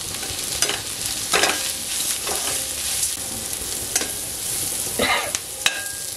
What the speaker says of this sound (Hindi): प्याज और को भूनते रहेंगे हम,